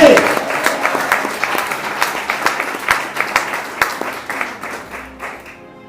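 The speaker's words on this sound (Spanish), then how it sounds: "brinden un fuerte aplauso a Dios y a su nombre" A church congregation breaks into sustained applause for God during a Spanish-language sermon, dense clapping with sharper bursts throughout, loud and close, thinning out toward the end.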